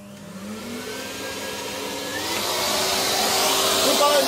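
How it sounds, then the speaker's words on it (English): A hoover running to suck up a large false widow spider, a steady whining motor roar that rises and grows louder as it gets going, close by. "Let me get the hoover on that."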